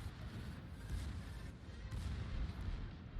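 Secondary guns on a battleship in a naval video game fire in a dense, rumbling barrage of booms. The blasts overlap into a continuous heavy roar with no talking over it.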